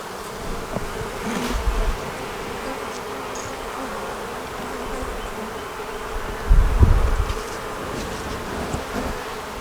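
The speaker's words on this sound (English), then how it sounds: "these are homegrown bees" Homegrown honeybees drone steadily around an opened hive as frames of brood, nectar and pollen are lifted for inspection, a close, continuous buzz with a couple of louder swells when bees pass near.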